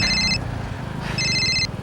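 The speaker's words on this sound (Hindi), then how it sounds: "1 मिनट में फोन आ रहा है।" A mobile phone ringtone plays in two loud electronic bursts, a short pause between them, over a low background hum in a police crime drama scene.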